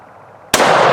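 A rifle fires once during a deer hunt in Tennessee, a sudden loud close crack that rolls into a sustained booming echo after quiet field ambience.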